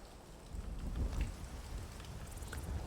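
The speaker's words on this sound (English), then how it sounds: "It's kind of raining, so I'm drenched now" Rain falls steadily in the Skyrim video game, a soft, dense patter with low rumbles beneath it that continues at an even level throughout, with no voices.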